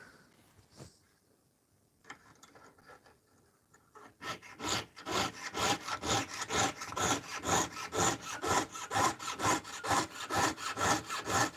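A hand saw works through copper in steady back-and-forth strokes, quiet and sparse at first, then a loud, fast, regular rasping rhythm up close with no talk.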